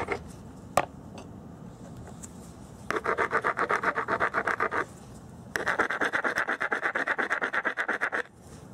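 A stone blade core is reshaped with a hammerstone, first a single sharp knock, then two bursts of rapid rhythmic scraping and abrading against the stone edge, close and fairly loud.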